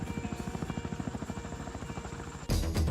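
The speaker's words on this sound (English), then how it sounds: "The Chinook is undoubtedly the greatest transport helicopter ever" A Chinook transport helicopter thumps with a steady, rapid rotor beat and a constant turbine whine, loud and close, continuous throughout before a sudden louder rush at the end.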